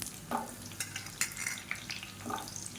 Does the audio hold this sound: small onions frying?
yes